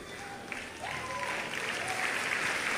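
Church congregation clapping in a worship service, a steady wash of many hands that swells slightly louder after the first second and holds, with a faint voice heard underneath.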